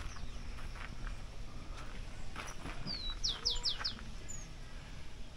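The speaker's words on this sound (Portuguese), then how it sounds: "Ouça aí o canto do pássaro aí, ó." A bird sings in a botanical garden in Brasília: a quick run of about five bright chirps, fairly faint over steady outdoor background noise.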